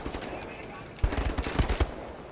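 Enemy gunfire in the shooter Wolfenstein: The New Order, a rapid automatic burst of sharp shots lasting about a second, rising over a steady game background.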